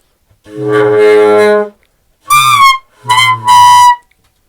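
Three clumsy tenor saxophone bursts from wrong fingering: a long wavering low note, then two shrill, squeaky high honks with a short gap between them, loud and close.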